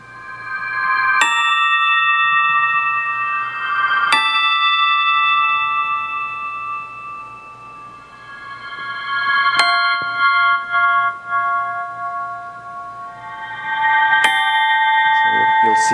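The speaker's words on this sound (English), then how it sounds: "with the bells with the reverse reverb." Sharp bell strikes ring out four times with long sustained tones, each preceded by a swelling, backwards-sounding reverb rush.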